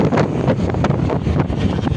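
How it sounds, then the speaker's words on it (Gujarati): A cool wind blows steadily across the microphone outdoors, making a loud, gusty, buffeting rumble with no break and no talking. "ઠંડો ઠંડો પવન આવ્યો ગાઈઝ"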